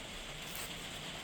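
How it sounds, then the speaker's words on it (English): Steady rain falling outside, a faint, even hiss of drops on surfaces that continues unbroken with no voices. "oh, apologies about the rain. I hope it's not too loud."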